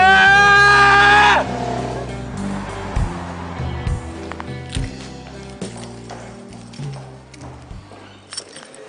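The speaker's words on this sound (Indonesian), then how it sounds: "Gue mau teriak." A woman lets out a loud, sustained scream at close range, lasting just over a second before cutting off, followed by quieter room sounds, shuffling and faint talk.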